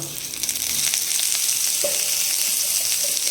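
Small chopped broccoli pieces hiss and sizzle in leftover butter with onion, a steady close frying sound with a few soft knocks of stirring, no voices.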